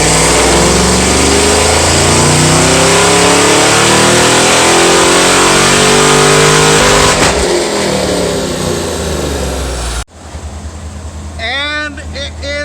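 Supercharged car engine with a Roots blower pulls hard on a dyno, a loud, steady, rising roar for about ten seconds that then cuts off, followed by a quieter winding-down with voices talking.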